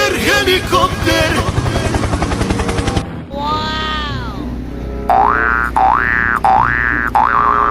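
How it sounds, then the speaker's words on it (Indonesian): A helicopter sound comes after a dense, busy burst of noise, with swooping tones and then a loud, repeating chirping whir that cycles steadily for several seconds. "Helikopter, helikopter!"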